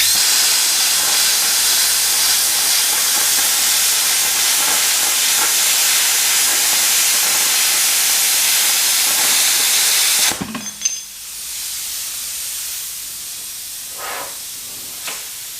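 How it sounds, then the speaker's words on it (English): A plasma cutter slicing through metal gives a loud, continuous roaring hiss for about ten seconds, then cuts off abruptly, leaving a quieter residual hiss and a few faint clicks. "I thought I'd show you guys what kind of cut the plasma cutter does"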